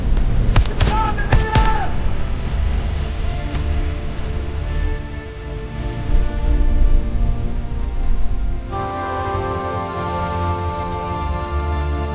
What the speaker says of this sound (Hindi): आतंकियों के ऊपर हमला करना है, ग्रेनेड से हमला शुरू करो।